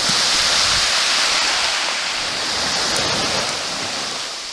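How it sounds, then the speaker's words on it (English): Waves breaking along a Western Washington shore as the tide comes in, a continuous loud roaring wash of surf that swells and eases slightly, heavy with wind rumble and no voices. "when the tide changes here and starts coming in, these waves, they can get pretty good sized in here"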